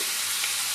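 Onion and pointed gourd fry in a pan with a steady, loud, broadband sizzle that holds without a break.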